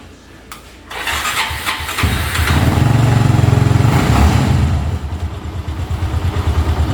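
A motorcycle engine cranks and catches during home servicing, then settles into a loud, close, steady idle with a throbbing rhythm that wavers slightly toward the end.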